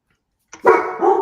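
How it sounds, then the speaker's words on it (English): A single dog barks once or twice close by, short and sharp, following a brief silence. "I hear somebody barking."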